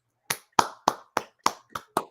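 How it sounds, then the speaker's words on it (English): A single person clapping as applause for a podcast guest, seven crisp, evenly spaced claps in close succession, loud and near, with no other crowd sound. "As always, a round of applause for the always interesting Rags Morales."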